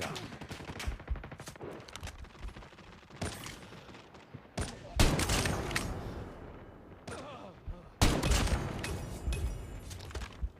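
Rapid gunfire from a sniper match in the mobile shooter Call of Duty Mobile, with bursts of shots and loud impacts that cluster in separate volleys and pause between them. No one speaks over the action.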